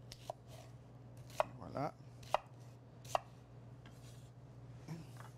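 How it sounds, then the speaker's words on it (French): Knife chopping onions on a board during a sauce-making demonstration, a handful of sharp separate chops spaced irregularly over a steady low kitchen hum, with a brief spoken word. "On coupe les oignons."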